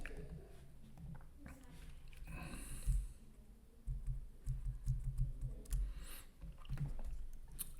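Computer keyboard keys clatter in scattered quick bursts of typing at a desk, close and fairly quiet, with some soft breathing noises between strokes.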